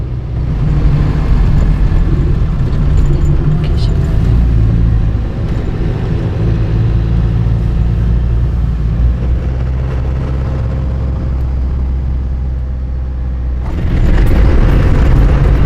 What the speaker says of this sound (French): Voilà à quoi ça sert d'avoir un 4x4. Prendre ce genre de petite piste pour trouver un petit bivouac sympathique.